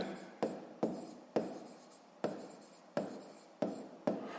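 A pen writes on paper in short bursts, about ten quick scratchy strokes each starting with a tap, close and clear in a quiet room, with no speech.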